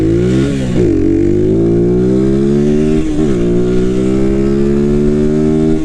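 A motorcycle accelerates hard in first gear, the engine note climbing loudly and steadily, dipping briefly at a shift near the one-second mark and again around three seconds before rising once more.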